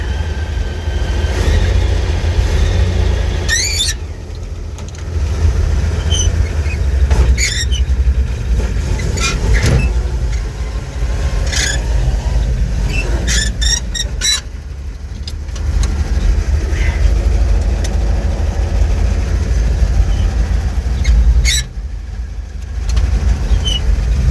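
Old car's engine running after the choke is pulled, a loud, steady low rumble close by, with a few sharp high squeals and clanks on top and brief dips in level.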